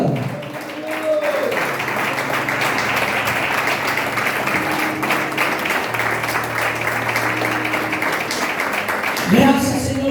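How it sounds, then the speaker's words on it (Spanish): Congregation applauding during a Spanish-language church service, a steady wash of clapping running through the whole stretch with music or tonal sounds beneath and a brief voice near the end. "Aplauda, Señor, aplaudir, aplauda."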